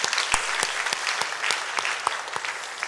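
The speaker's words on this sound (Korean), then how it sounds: "박수로 격려하겠습니다" A church congregation at a Sunday evening worship service applauds the worship team and choir: steady, dense clapping from many hands with a few sharper claps standing out, filling the room throughout without speech.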